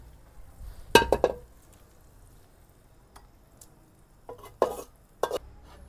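A few short bursts of sizzling and metal clinking as tempered spices are stirred into a pot of chicken haleem, separated by quiet pauses.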